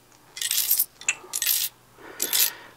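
A Streamlabs chat alert chiming on a computer, three bright jingling bursts like coins spilling, fairly close and clear with no talk over it.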